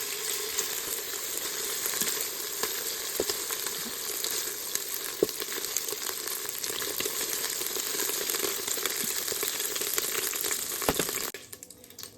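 Chicken pieces sizzle loudly and continuously in a pan with crackling and popping fat, then go suddenly quieter near the end as a lid is put on.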